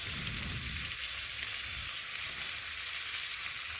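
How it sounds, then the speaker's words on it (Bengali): Thin-cut potatoes fry in a hot pan with a continuous bright sizzle and crackle. A low stirring rumble joins at first, then the frying hiss carries on evenly alone. "একটু ভালোভাবে আলুর সাথে নাড়াচাড়া করে দেখুন আমি ভেজে নিচ্ছি।"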